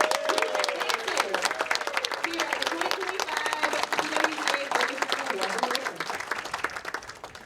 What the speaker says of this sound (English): Let's give these ladies a huge round of applause.